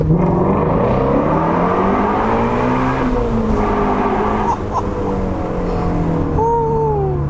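A 2020 Shelby GT350's V8 roars loudly while driving under overpasses, the engine note rising and falling with gear changes and echoing off the concrete, heard from inside the car.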